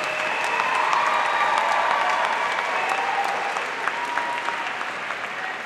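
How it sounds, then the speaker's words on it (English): Sustained applause from a large crowd at a university's fall undergraduate commencement ceremony, steady and full throughout with no break. "Please take a moment to thank them with a big round of applause"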